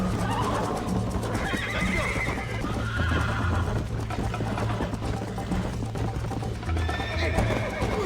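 Horses in Red Dead Redemption whinny and neigh over steady clip-clop hooves as one rears up, game music and ambience running underneath throughout.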